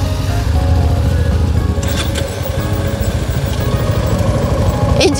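A Suzuki V-Strom motorcycle engine runs steadily at a loud idle, a low continuous rumble throughout with a brief higher whine near the end.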